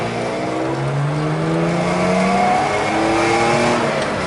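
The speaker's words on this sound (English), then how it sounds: "It's a beautiful straight pipe stainless steel exhaust." A loud, raspy straight-piped stainless steel exhaust on a BMW E30 race car drones continuously at close range, its pitch rising and holding steady as the engine pulls.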